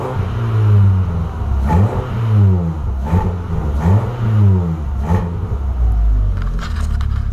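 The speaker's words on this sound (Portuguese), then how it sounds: "E vamos ligar aqui o carro e vamos lá atrás só pra vocês escutar como que tá" A Volkswagen Polo fitted with a sport exhaust revs repeatedly, loud and close, its engine note swelling and falling in four or five rhythmic bursts over a steady rumbling idle.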